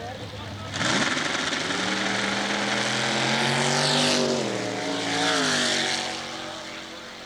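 Drag race cars launching at Southeastern Dragway, a sudden loud roar that rises in pitch as the engines accelerate and passes by, then fades, with an announcer talking over it.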